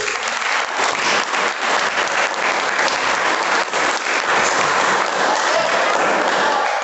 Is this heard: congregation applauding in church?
yes